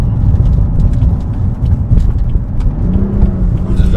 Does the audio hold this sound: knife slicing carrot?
no